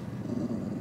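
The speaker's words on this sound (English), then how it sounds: "Y'all hear him growling? He don't like to be woken out of his sleep." A dog woken from sleep growls low and rumbling, a continuous moderately close grumble with no talk over it.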